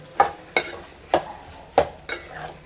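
Prawn curry with coriander powder, turmeric and salt stirred in a pan, five distinct scraping spoon strokes at uneven intervals over a faint low sizzle, close and fairly loud.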